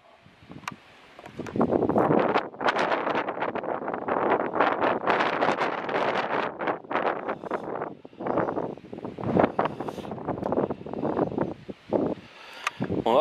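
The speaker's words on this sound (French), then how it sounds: "Aujourd'hui, le vent est terrible." Strong gusts of wind on a foggy mountain pass near Pas de l'Arpette buffet the microphone in loud, uneven bursts and roaring surges that rise and fall throughout, with no talking.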